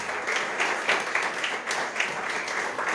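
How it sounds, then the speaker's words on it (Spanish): A church congregation claps for the Lord in a short, moderately loud burst of crowd applause, with scattered sharper claps rising out of the steady blur of hands. "¿Cuántos le dan un fuerte aplauso al Señor?"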